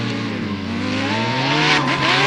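A nitro-fed 1000cc Suzuki motorcycle roars at a sand drag race, its engine note loud, close and sustained, rising slightly in pitch as it pulls hard.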